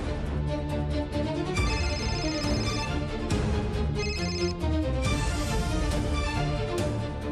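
A phone rings late at night with a melodic, continuous ringtone that plays steadily for several seconds, fairly loud and with no talking over it.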